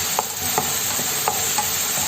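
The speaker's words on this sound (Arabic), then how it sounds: "كنبقى نحرك مزيان حتى كطيب هذيك البصله." Chicken and thinly sliced onions frying in a pan while being stirred, a steady sizzle broken by several soft scraping strokes of the spoon at an even pace, close by with no voices.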